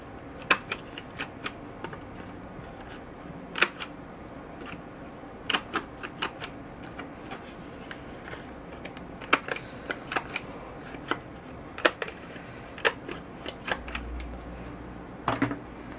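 A half-inch corner rounder punch trims the corners of a stamped card, producing sharp, crisp clicks scattered irregularly over a quiet background, some in quick pairs, with no talk.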